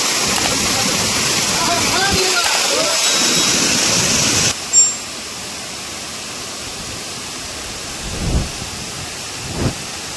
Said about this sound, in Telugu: పాలనొరగ లాంటి వాటర్ ఫాల్స్ చూడడానికి ఎంతో అట్రాక్ట్గా ఉన్నాయి కదా